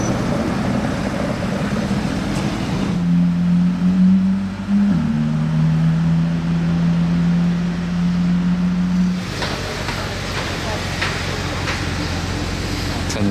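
Audi RS6 with a Capristo exhaust passing on a Monaco street, a loud, heavy engine drone that swells, shifts pitch midway and fades, over constant roaring street background.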